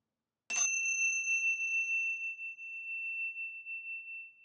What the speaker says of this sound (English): Now I'm going to ring a bell to mark the end of the presencing session.